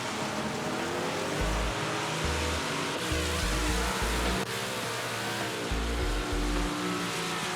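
A Big Block Modified race car tears around the Bristol dirt track in iRacing, its engine a constant dense roar with low thumps and throttle surges, loud and unbroken throughout.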